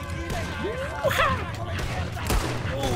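Gunfire in the Red Dead Redemption 2 video game: a few sharp shots and a burst of firing across a busy scene, with people talking over the action.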